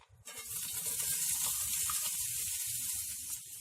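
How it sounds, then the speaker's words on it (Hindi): Finely chopped onions dropped into hot oil in a pan, a loud, steady close-up sizzle that starts abruptly and holds evenly throughout, with no voices over it. "सबसे पहले मैं इसमें बारीक कटी हुई प्याज डाल रही हूँ।"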